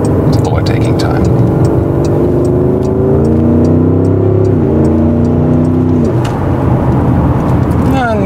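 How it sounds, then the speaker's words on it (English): Porsche Cayenne Turbo Coupé V8 accelerating hard to overtake, its engine note rising steadily and loud from inside the cabin, with road noise and a person speaking over it throughout. "it's really good to have a powerful engine because then the overtaking process also goes quite quickly"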